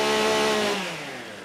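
A STIHL MS-661 chainsaw revs loud and close at a timbersports competition, a steady high engine whine that drops in pitch partway through.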